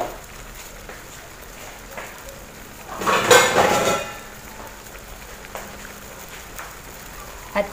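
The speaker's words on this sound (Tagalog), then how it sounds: "Lagyan muna natin siya ng takip." A lid goes onto a cooking pot of vegetable soup: one short burst of metallic clattering and clinking, fairly close, standing out briefly against a quiet kitchen background.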